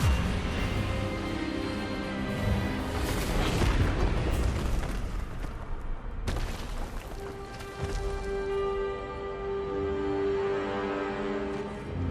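A spell burst in Hogwarts Legacy during a wizard duel: a loud booming magical blast with crackling energy fills the moment, followed by a sustained ringing tone as the effect fades, all over game music with no talking.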